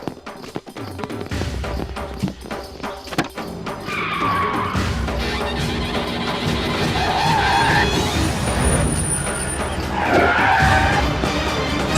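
A car pulls away with its tires skidding and squealing, a loud, sustained screech and engine roar after a few sharp knocks, with no talking.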